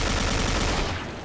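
Rapid bursts of game gunfire, dense and continuous, fading slightly toward the end.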